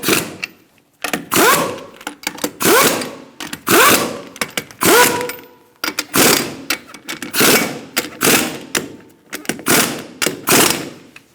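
A wrench snugging the lug nuts on a 2002-2006 Honda CR-V rear wheel in a star pattern, repeated loud ratcheting bursts close by, each lasting about a second with short pauses between them.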